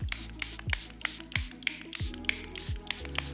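Repeated short hissing bursts of Charlotte Tilbury Airbrush Flawless Setting Spray misting onto a face, several quick pumps in an uneven rhythm, close and fairly soft.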